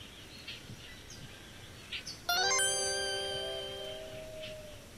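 A bird in the Dropsy video game lets out a single clear, tonal chirp-like call that rings out and slowly fades over a quiet background.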